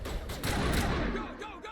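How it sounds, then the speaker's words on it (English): Burst of weapon fire in the sci-fi video game Mass Effect, a short dense volley of shots crackling together with no speech. "Open fire. Open fire!"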